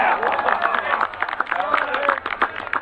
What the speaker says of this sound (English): There's cheering going on, so I think that was a fair I ball.